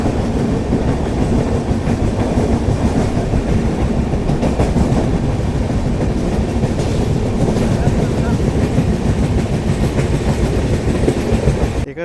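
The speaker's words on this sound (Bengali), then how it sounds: "আমাদের ট্রেন এখন তার চতুর্থ যে হল্ট সেখানে এসে পৌঁছেছে, তমলুকে" Tamralipta Express passenger train running toward the Tamluk halt on the Howrah to Digha route, a loud steady rumble with continuous wheel clatter throughout, close and unbroken.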